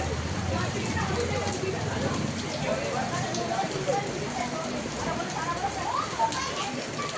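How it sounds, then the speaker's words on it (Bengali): Continuous night rain falls outside a Durga Puja pandal during Ashtami, a dense steady hiss with scattered drips, while children and adults chatter and call nearby. "এখনো রানিং বৃষ্টি পড়ছে"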